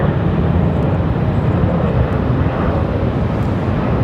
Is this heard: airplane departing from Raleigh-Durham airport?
yes